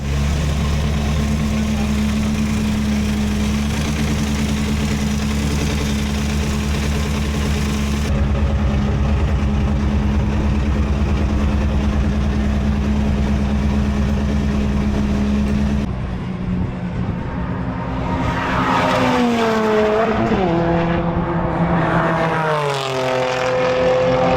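An Alpine A110 rally car's engine runs with a steady, loud idle rumble, then revs rise and fall in sweeping bursts toward the end.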